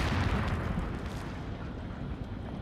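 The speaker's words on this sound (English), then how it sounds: "Oh, that's a rocket launcher." A rocket launcher explosion in Resident Evil 4, heard as a dense roaring rumble that starts loud and settles into a steady, slightly weaker roar with no distinct separate blasts and no talk.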